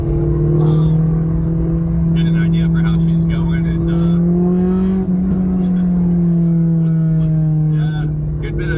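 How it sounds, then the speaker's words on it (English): An engine-swapped Honda S2000 pulls hard on the highway, its exhaust droning loudly and rising in pitch under steady in-car talk. "We're about to hop on the highway now and do a pull."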